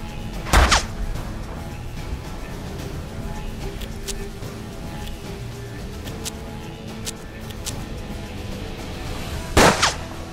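Gunfire in the turn-based Western game Hard West, with two sharp, loud shots about nine seconds apart over a low ambient rumble.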